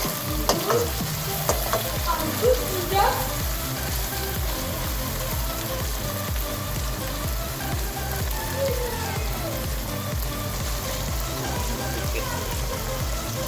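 Tomatoes, onion, cumin, ginger and garlic fry in a pan with a steady, fairly loud sizzle throughout, broken by repeated scraping stir strokes, with no talking.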